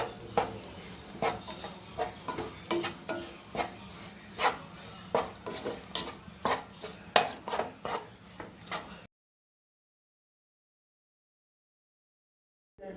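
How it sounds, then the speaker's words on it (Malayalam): Bread upma being stirred continuously in a hot pan: repeated spatula scrapes and clinks over a soft sizzle for about nine seconds, then silence. "ഒരു 2 മിനിറ്റെങ്കിലും കണ്ടിന്യൂസ് ആയിട്ട് നമ്മളിങ്ങനെ മിക്സ് ചെയ്തുകൊണ്ടിരിക്കണം."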